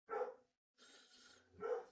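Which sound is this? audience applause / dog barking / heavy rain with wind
dog barking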